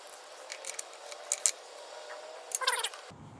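An oil drain plug being threaded back into a GY6 150cc scooter engine, heard as a few small, close metallic clicks and a brief cluster of scraping ticks near the end.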